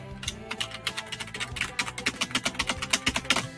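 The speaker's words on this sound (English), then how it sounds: "you can hear my keys" Computer keyboard keys clack in quick, uneven bursts of typing, close and fairly quiet, with the taps growing denser and more rhythmic toward the end and no voice over them.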